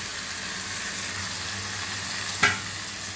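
Marinated desi chicken sizzles steadily in a pan of cooked-down spice paste while being stirred, a continuous close frying hiss with one brief clatter near the end and no talk.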